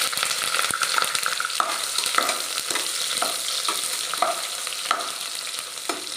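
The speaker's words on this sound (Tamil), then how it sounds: "ஸோ வெங்காயம் கொஞ்சம் வதக்கிக்கலாம்." Onions sauté in a pan with a bright, continuous sizzle, punctuated by regular scraping and tapping of a stirring utensil throughout.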